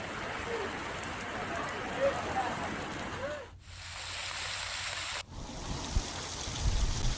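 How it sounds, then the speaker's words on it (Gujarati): Rain falling during a thunderstorm in Diu district, Gujarat, a steady broadband hiss of drops on surfaces throughout, with a short muffled dropout partway and a few faint knocks near the end. "દીવ જિલ્લામાં કડાકા ભડાકા સાથે વરસાદનું આગમન થયું છે"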